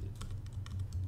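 Someone types on a computer keyboard in a quick, uneven run of close, light clicks, with no voice over them.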